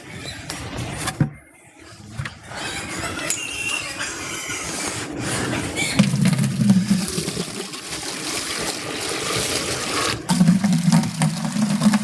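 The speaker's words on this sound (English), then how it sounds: "Get some water going for the pigs." Water gushes steadily into a container for pigs on a homestead, a continuous rushing pour with a brief pause partway through, set against low outdoor rumble.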